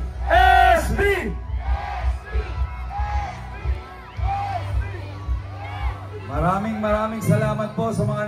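A crowd at an outdoor political rally in the San Andres district of Manila chants and shouts together in loud rhythmic bursts, answering a voice that calls out over a loudspeaker, with a steady low hum underneath.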